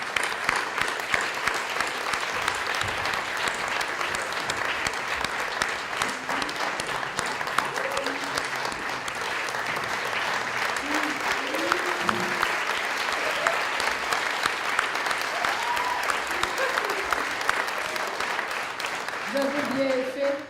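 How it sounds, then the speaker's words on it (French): Audience applause at a business gala awards evening, a steady, dense clapping from a large crowd that holds at an even level throughout, with a few faint voices and cheers under it. "Vous pouvez venir vous faire applaudir sur la scène."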